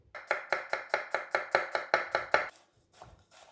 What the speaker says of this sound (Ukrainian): я її нарізаю дуже-дуже дрібним кубиком